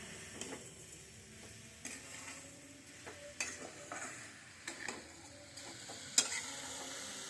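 Coconut and sugar filling for patishapta pitha cooking in a pan as the sugar melts, with a soft steady sizzle and occasional scraping stirs and light clinks, no talking.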